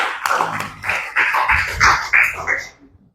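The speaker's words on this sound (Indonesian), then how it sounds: "Tepuk tangan buat kelompok 5." Classroom applause for a student group, a short burst of fairly close, uneven hand clapping that builds in several sharp pulses and then fades out quickly.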